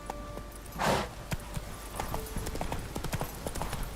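Horse hooves clip-clopping as Geralt rides Roach in The Witcher 3, a steady galloping rhythm of close thuds with a short breathy snort or whoosh near the start.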